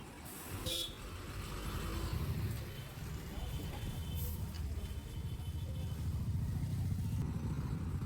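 A KSRTC bus pulls away from the Shiggaon bus stand, bound from Hubballi toward Bhadravati, its engine a steady low rumble amid the bus stand's background noise, with a short horn toot early on.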